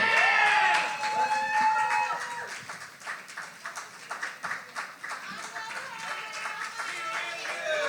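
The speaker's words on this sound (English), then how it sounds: "Keep the applause going for Polly" Audience at a poetry slam anniversary event clapping and cheering, a dense burst of applause that thins out, with voices talking over it.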